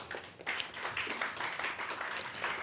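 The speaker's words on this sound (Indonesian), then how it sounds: "tepuk tangan untuk Mas Tommy deh." Applause from a studio audience on a talk show, steady clapping from a small group that rises quickly and continues evenly at moderate volume, with no voices over it.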